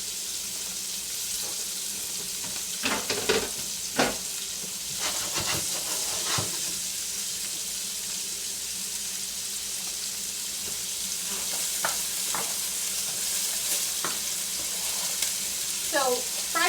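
Cubed pork seasoned with salt and black pepper frying in a pan, a steady soft sizzle throughout with scattered clinks and scrapes of stirring, fairly quiet and close.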